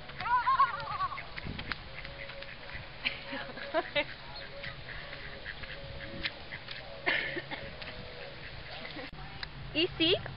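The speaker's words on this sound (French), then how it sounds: "Au printemps, on a des canards." Ducks quack intermittently outdoors on a university campus in spring, faint and somewhat distant beneath steady ambient noise and a person speaking throughout.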